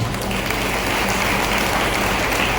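Audience applause fills a hall during a Ladli Behna Raksha Bandhan festival at Manas Bhawan, Shivpuri: dense, sustained clapping from a large crowd, loud and steady throughout.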